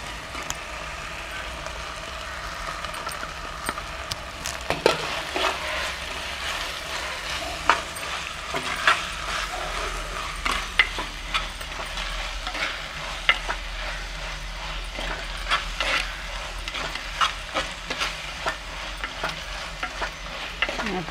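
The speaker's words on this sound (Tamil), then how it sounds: "இப்போ பச்சை மிளகா போட்டுருவோம்." Tomato, onion and green chilli fry in a clay pot while being stirred, giving a steady crackling sizzle over the whole stretch with repeated scraping strokes, and no one speaks.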